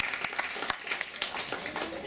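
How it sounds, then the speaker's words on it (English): Dense applause at a 25th birthday party, many hands clapping at once in a steady close-up patter with a few sharper claps standing out, a voice briefly heard under it. "Give her a round of applause"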